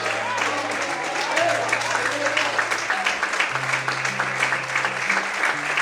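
A church congregation applauds the Lord in a steady, dense wash of clapping through the whole stretch, with a sustained musical tone beneath.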